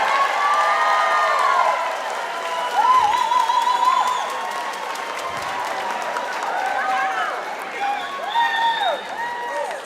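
A convocation audience fills the hall with sustained cheering and applause, loud shouts and whoops rising and falling over constant clapping for about ten seconds.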